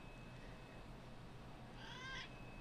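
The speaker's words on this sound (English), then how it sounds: "I gotta scratch this cat, I guess, for the rest of the night." A cat being scratched gives one short, faint meow near the end, after a quiet stretch of low room noise.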